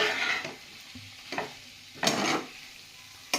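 Chopped garlic stirred and frying in a pan with chicken for chilli chicken, in short bursts of sizzling and scraping separated by quieter gaps.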